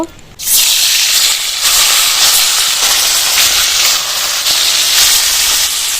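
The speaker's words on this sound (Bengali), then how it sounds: "কড়াইতে তেল দিয়ে দেবো এবার মাছগুলো ভেজে নেব" Ritha fish dropped into hot oil in a wok, bursting into a loud, sustained sizzling hiss that starts abruptly and stays strong and close for several seconds.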